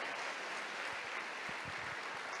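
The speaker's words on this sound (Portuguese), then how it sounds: "Você pode aplaudir isso aí, meu irmão?" Church congregation applauding during an online worship service, a broad steady wash of clapping that holds at an even, fairly soft level throughout.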